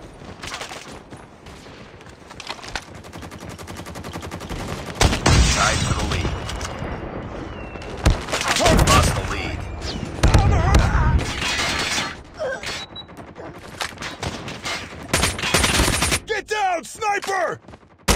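Rapid gunfire bursts and heavy shots ring out in the Call of Duty video game, loud and close, with stretches of automatic fire, sharp booms and shattering hits, while game voices call out over the action.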